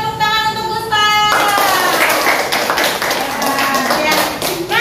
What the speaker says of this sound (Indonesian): Berikan tepuk tangan untuk Gustaf